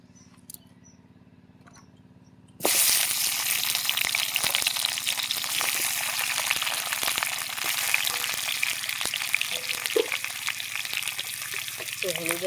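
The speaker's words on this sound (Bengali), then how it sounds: "তেল দিয়ে দিয়েছি, ওতে আমি আলুটা ভেজে নেব।" Potatoes frying in hot oil in a kitchen pan, a loud steady sizzle that bursts in abruptly after a quiet start and keeps up as a broad hiss, with a few faint clicks.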